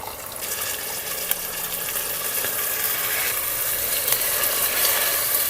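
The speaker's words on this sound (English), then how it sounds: "Now we're gonna add in some water." Water is poured into a pan of meat and tomato paste ragu, giving a steady, dense sizzle with bubbling and crackling throughout and no voices.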